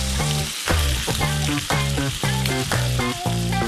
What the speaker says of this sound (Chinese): 美味牛肉烤网上滋滋作响